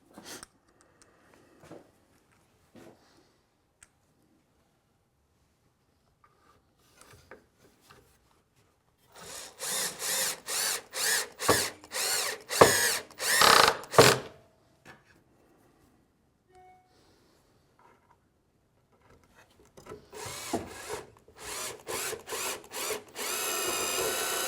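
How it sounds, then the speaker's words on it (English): A power drill driving screws into a wooden bathroom vanity makes two bursts of rapid, rattling whirring, each a few seconds long, separated by quiet handling and light knocks in a workshop. "And then we'll just run in the screws."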